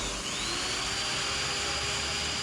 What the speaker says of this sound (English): Maybe you're not using the drill right?